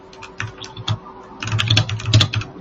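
Clicking keystrokes on a computer keyboard, typed in uneven bursts that grow busier and louder midway, with a low steady hum behind and no voices.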